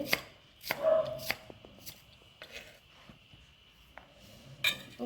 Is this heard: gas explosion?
no